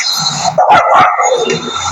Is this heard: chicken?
no